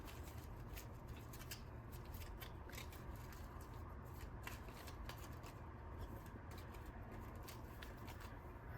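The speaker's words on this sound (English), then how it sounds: "I'm going to go ahead and reshuffle these books." Game cards from a bookshop-themed tabletop box game being shuffled, a steady continuous riffling and sliding patter at close range throughout, with no talk.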